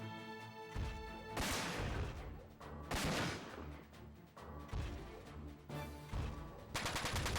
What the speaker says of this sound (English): And retaliate with the machine gun.